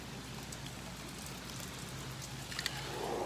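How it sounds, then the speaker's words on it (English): Heavy rain pours down in a continuous close hiss of drops striking surfaces, growing slightly louder toward the end, with a few sharper splats and no voices. "That sure is a lot of rain."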